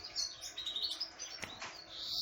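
Birds in an aviary chirp and tweet in quick, overlapping calls, fairly faint and continuous, with one sharper call standing out midway.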